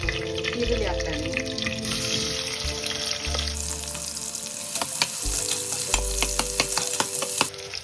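Onions sizzle steadily in a hot pan for South Indian vegetable pulao, with intermittent stirring scrapes and clinks layered over the constant frying hiss.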